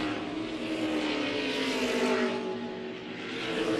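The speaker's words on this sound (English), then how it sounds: "Cars rolling out onto the speedway." Race cars rolling out onto a speedway behind a 2015 Ford Mustang pace car at the Corrigan Oil 200, a steady broad engine drone holding loud and even throughout with a slight swell midway.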